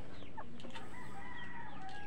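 Pet chickens cluck softly at a distance over a low, noisy background, with brief calls and a rooster-like cry among them.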